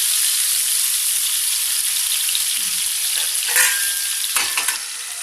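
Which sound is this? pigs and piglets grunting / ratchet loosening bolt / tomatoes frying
tomatoes frying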